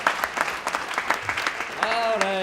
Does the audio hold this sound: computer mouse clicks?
no